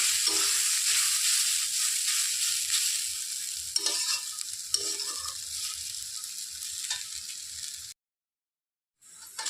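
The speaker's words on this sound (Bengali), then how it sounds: "এভাবে একটু নেড়ে চেড়ে নেব" Taro frying in a pan gives off a steady, close sizzle with the rhythmic scrape of stirring, which cuts to silence near the end before the sizzling briefly returns.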